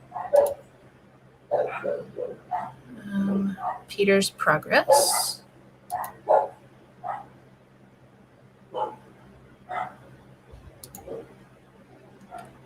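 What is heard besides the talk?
dogs barking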